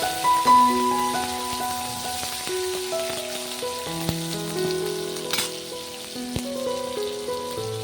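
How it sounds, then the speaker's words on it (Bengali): Small-cut tomatoes fry in oil in a pan with a steady, close sizzle and occasional sharp pops, while soft melodic background music plays throughout. "টমেটোগুলোকে একটু ভালো করে ভেজে নেব তেলের সাথে"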